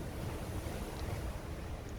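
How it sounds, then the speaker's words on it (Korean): Ocean waves surge on the East Sea coast of Korea in a steady, moderately faint wash of broadband noise, with no voices present. "밀고 당기며 오가는 파도 소리가 마치 인간들의 삶의 현장 같았습니다."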